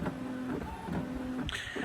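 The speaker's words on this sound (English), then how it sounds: "The soothing sounds of a BubbleJet printer from the 90s." A refurbished 1990s Canon BubbleJet BJC 800 inkjet printer at work, its print head shuttling back and forth with tonal motor whines and clicks in short repeating passes, close and clear.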